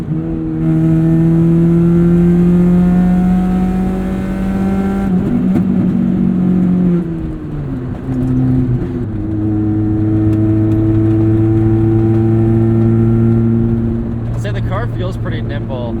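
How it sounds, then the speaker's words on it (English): A 1996 Saturn SC2 engine revs under heavy throttle, a loud sustained drone that climbs, dips as revs fall around the middle, then rises again; occasional talk is faintly audible under it. "if you're just like going heavy throttle on the gear, but then don't shift and just let go of the gas"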